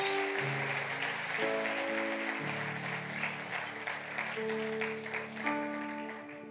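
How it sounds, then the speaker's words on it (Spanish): A church congregation applauds beneath sustained organ or keyboard chords, the clapping a soft steady wash under the held music. "Dele un fuerte aplauso a Cristo"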